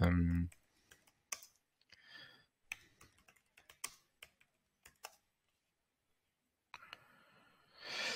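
Keystrokes on a computer keyboard as an email subject line is typed, a sparse, irregular run of close, quiet clicks separated by pauses, with a soft voice at the start and end.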